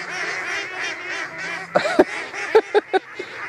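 Thousands of ducks or geese crowd a pond at night, a constant din of honking and quacking with several sharp, close calls bursting out in the second half.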